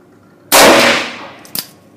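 A Ruger Bisley .41 Magnum revolver fires a single loud, close shot over a chronograph at an outdoor range, a sharp blast followed by a decaying boom and a faint echo.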